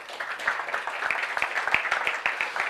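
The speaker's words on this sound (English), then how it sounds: "give her a round of applause" Audience at a leadership keynote clapping for a woman named Jessica after her ice challenge, a moderate, fairly sparse round of applause with distinct individual claps, no talking over it.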